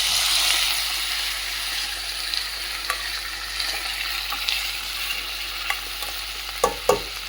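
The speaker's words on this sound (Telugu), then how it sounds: "ఇది కొంచెం సేపు నూనెలో మగ్గనివ్వాలి." Drumsticks fry in oil for a curry, a steady bright sizzle holding throughout with occasional stirring scrapes and a couple of sharper clanks near the end.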